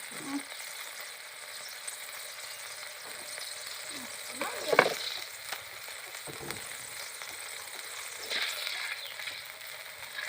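Thin rice noodles stir-fried in a pan by a beginner cook, with a steady low sizzle and occasional scraping stirs, including a louder clatter near the middle, heard close without talk.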